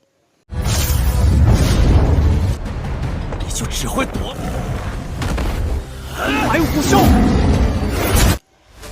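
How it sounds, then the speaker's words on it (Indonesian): Two martial spirits clash in midair in a fantasy animated battle, producing a huge booming explosion with whooshing rush and crackling debris that rolls on for several seconds before cutting off abruptly. "Kedua martial spirit itu pun bertabrakan di udara dan duar. Ledakan besar pun bergema"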